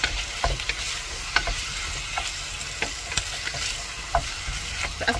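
Sliced button mushrooms fry in a pan and are stirred, with a steady sizzle, dry scraping taps at irregular intervals, and no voices.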